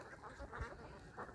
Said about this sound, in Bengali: কত সুন্দর হাঁসের একটি খামার, উন্মুক্ত হাঁসের খামার